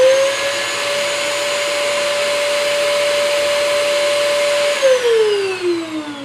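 A Shishavac hookah hose cleaning machine runs its cleaning cycle with a loud, steady, vacuum-like whine for about five seconds, then its pitch drops as the motor winds down.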